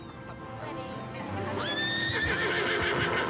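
A horse arriving at an outdoor picnic lets out one clear, fairly close whinny midway, its bright wavering tone rising and then fading over a steady, busy background murmur.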